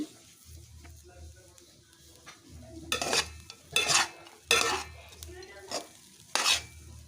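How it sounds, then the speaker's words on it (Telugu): Leftover rice is stirred in a pan after salt goes in, a soft background crackle broken by several scraping spoon strokes against the metal that come in short bursts, close. "ఇందులోకి సరిపడా అంత సాల్ట్ని అయితే యాడ్ చేసుకొని మళ్ళీ ఒకసారి అయితే కలుపుకోవాలి"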